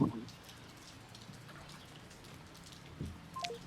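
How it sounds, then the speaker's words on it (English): Rain falls steadily outside, a soft continuous hiss with faint scattered drops, heard alone at low level with a few brief thumps and a short voice-like sound near the end. "let's give it like a couple seconds just so people can hear this rain"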